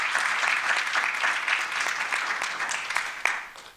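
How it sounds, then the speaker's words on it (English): Sustained audience applause fills a youth symposium hall, dense and steady throughout with a few sharper claps near the end as it tapers off. "Can we please give them a round of applause?"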